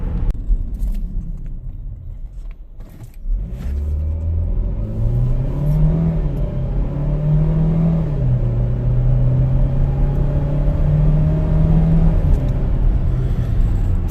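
A Chevy Equinox Premier AWD's 1.5-liter turbo engine is revved at half throttle, climbing from a low idle rumble to a loud, steady high-pitched drone that holds with slight wavering, then eases back a little near the end.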